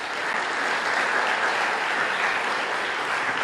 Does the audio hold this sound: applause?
yes